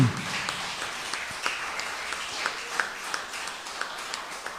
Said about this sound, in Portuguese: Dá um aplauso a Jesus Cristo.